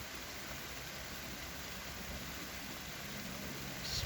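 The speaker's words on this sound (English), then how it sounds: "The rain coming down." Rain falls steadily on the South Croydon allotments, a constant soft hiss with a faint background rumble, growing slightly louder at the end.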